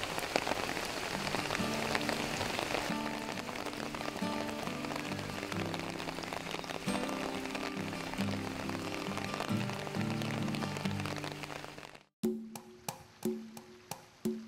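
Rain patters steadily on surfaces, a soft, dense wash of drops with a faint tonal background, then gives way to a few sparse, distinct drips near the end.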